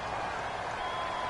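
A football stadium crowd during a Ravens versus Cowboys game roars as a steady, loud, continuous wash of noise with no breaks, pressing on the Ravens' offensive line.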